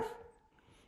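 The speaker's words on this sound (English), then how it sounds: "that's my dog barking" A dog barks close by indoors: one short, loud bark at the very start that quickly fades into a quiet room.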